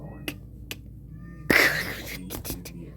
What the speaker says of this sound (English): You're meowing so loud.